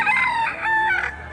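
A 7-month-old gamefowl rooster crows one long, drawn-out call, loud and close, followed by a second shorter crow, at a market in Padre Garcia, Batangas.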